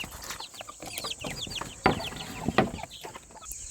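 Brahma chickens and chicks at a poultry farm fill the air with rapid high peeping and soft clucks, close by, with a few sharper calls breaking through the steady chatter.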